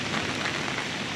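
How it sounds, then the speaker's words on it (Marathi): Rain falls outdoors on trees and surfaces after a sudden downpour, a steady, even hiss with no breaks, fairly close and unbroken by voices. "हे बघा इतक्यात किती पाऊस झालाय लगेच"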